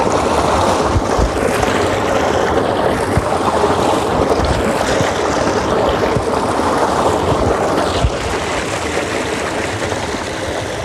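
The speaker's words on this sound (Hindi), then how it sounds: "ये ट्यूबवेल है, ट्यूबवेल का पानी" Water gushes steadily from a tubewell into a village field channel, a loud continuous rushing and splashing that lasts throughout without any talk.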